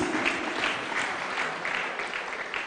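A church congregation at a holy communion service claps hands together in sustained, even applause that fills the hall at moderate volume, with no talk over it.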